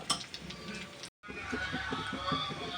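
Onions frying with meal maker soy chunks in a pan, a low sizzle under rhythmic scraping and stirring, briefly cut off by a short silent dropout.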